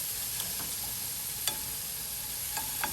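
Shrimp cooking in a pan, a fine steady sizzle with a few faint clicks of a utensil against the pan, close but moderately quiet, with no talking.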